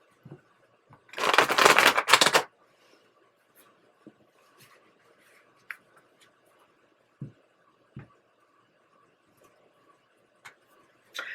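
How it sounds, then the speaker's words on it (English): A brief burst of tarot card shuffling, a dense riffle lasting about a second, followed by quiet with scattered light taps and clicks. "One more shuffle for you."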